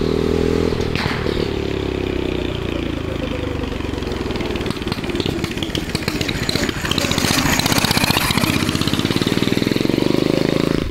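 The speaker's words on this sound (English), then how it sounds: "You can really hear that turbo working." A turbocharged go-kart engine built for a limousine runs close and loud, a rough idling clatter picking up into a fast, buzzing roar with a scraping, breaking-up edge and a faint turbo whine.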